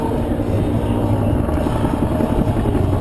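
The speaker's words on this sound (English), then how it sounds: "take a ride in one of these historic Cobra attack helicopters" A Cobra attack helicopter flies during an air show demonstration, its rotor giving a loud, steady, close chopping thump throughout with dense engine roar, heard alone without talk.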